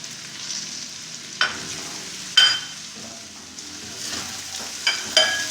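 Cabbage and vegetables stir-fried for vegetable fried rice, a constant hiss of frying broken by several sharp clinks and scrapes of a spatula against the pan.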